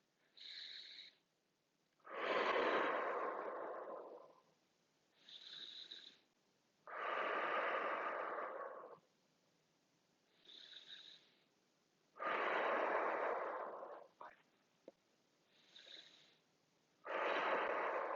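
Slow, forceful exhaled breaths during a pregnancy and postpartum core exercise, six long rushing exhales alternating with brief inhales in an even rhythm, close and fairly loud with no talk.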